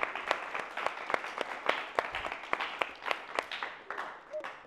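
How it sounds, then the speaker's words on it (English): Small-group applause during a military band excerpt masterclass, with distinct individual claps rising from a thin clatter, moderately near and fairly light, fading out near the end. "Let's give him a round of applause."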